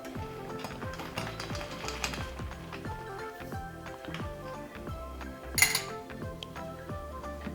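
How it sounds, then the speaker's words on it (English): A spoon stirs red ginseng, simple syrup and lemon in a cup, giving a steady series of light metallic clinks and scrapes against the sides, close and fairly quiet, with one brighter clink near the end. "And we're gonna stir it nice and easy."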